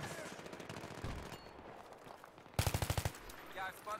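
Rapid automatic gunfire in the video game Global Conflict, a short burst of about eight sharp shots midway, with scattered fainter shots and muffled voices around it.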